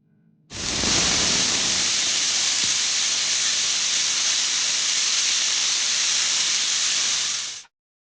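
A pressure cooker on a stove vents steam with a loud, steady hiss. The hiss starts abruptly after half a second, holds evenly for about seven seconds, then cuts off.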